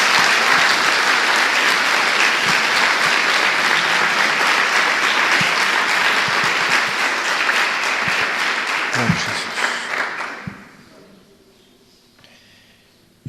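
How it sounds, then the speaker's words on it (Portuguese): A church congregation gives loud, sustained applause at close range for about ten seconds, the clapping dense and continuous before it thins out and fades away near the end. "Dê uma salva de palmas ao Senhor."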